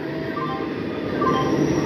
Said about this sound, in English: Through train will be passing from platform number 2.